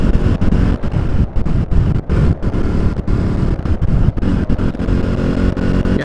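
KTM 390 Duke single-cylinder motorcycle under way just after a downshift, engine droning steadily beneath heavy buffeting wind noise with no talk.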